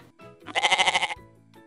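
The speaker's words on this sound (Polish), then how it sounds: "koza." A single quavering bleat from a goat, pulsing rapidly for about half a second, close and clear against quiet.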